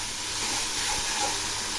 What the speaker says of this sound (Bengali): এই সর্ষে বাটাগুলো হালকা করে একটু ভেজে নেব।